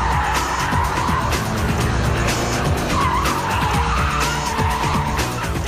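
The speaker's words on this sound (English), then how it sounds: "rip the steering wheel hard to the left, spin it, change it into drive and fang it away. So you burn plenty of rubber" A car spins hard through a J-turn on a driving course, tyres squealing and skidding continuously over a loud revving engine.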